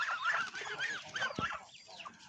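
First-generation Betong crossbred chickens, crossed with laying hens and raised free-range, cluck softly and repeatedly at a faint, fairly distant level, with no one talking.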